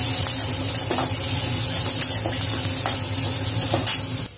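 Chopped onion and bay leaf fry in a pan with a loud, continuous sizzle, broken by occasional spoon scrapes and light clinks as the mixture is stirred.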